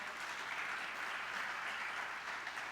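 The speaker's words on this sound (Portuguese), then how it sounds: "Dá um aplauso a Jesus aí." A church congregation at a worship service claps together, a soft, even wash of applause that holds steady from start to finish with no voices standing out.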